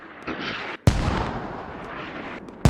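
Distant mortar impacts in the video game Squad on the Belaya map, heavy booming blasts at the start and near the end with a rumbling wash of battlefield noise between them.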